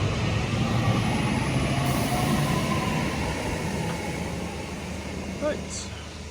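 A train rumbles steadily as it departs Patricroft station toward Liverpool, a broad low roar that slowly eases as it pulls away, with a faint bird chirp near the end.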